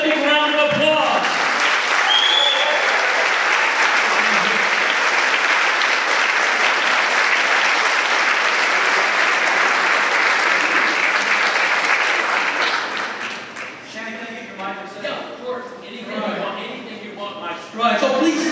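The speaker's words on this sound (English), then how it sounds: "So let's give him a big round of applause" Loud, dense applause from a high school audience at Adamson H.S. welcoming a North Texas State graduate, a steady wash of clapping that holds for about twelve seconds and then thins into scattered claps with voices and a few cheers.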